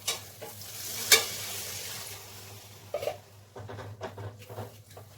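Water is poured into a pan of frying taro-root kofta curry, a sharp splash and sizzle flaring up, then a steady frying hiss with a few stirring scrapes and clinks close by.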